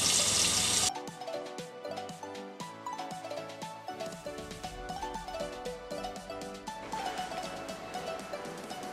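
Water runs from a tap while hands are washed, giving a steady splashing rush under a plucked melody that plays throughout.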